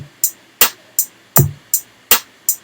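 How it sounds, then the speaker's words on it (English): A sparse, basic drum beat: crisp hi-hat and snare-like hits alternate steadily, with a low kick thump in the middle. "And that's pretty much the most basic beat you can make."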